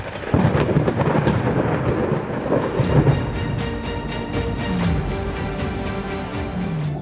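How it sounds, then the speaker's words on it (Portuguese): Deep rolling thunder rumbles loudly and continuously through a storm, swelling into a nearer, heavier crack partway through with no voices. "Outra trovoada, mais próxima."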